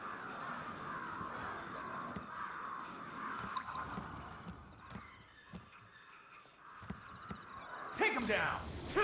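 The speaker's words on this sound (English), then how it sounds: "those crows are loud" Crows caw persistently in the Ghostwire: Tokyo video game, a loud repeated chorus of harsh calls layered over ambient game sound, with a voice talking and a sudden burst of noise near the end.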